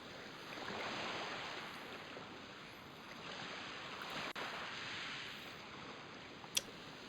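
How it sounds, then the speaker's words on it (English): Steady broadband wash of waves and surf lapping around a boat in Lunar Silver Star Story, continuous and moderately loud with wind-like hiss, broken near the end by a brief sharp click. "Them high-quality water sounds right there."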